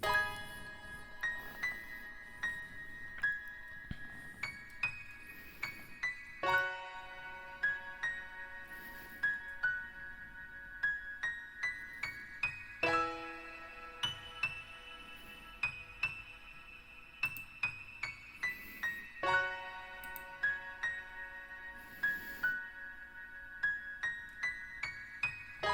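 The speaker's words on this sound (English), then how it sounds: "I started off with a very mysterious piano with a lot of reverb" Mysterious piano built in FL Studio Mobile for cinematic film music, soft sparse notes and chords ringing out with heavy reverb, a slow repeating pattern of plucked, bell-like tones heard alone.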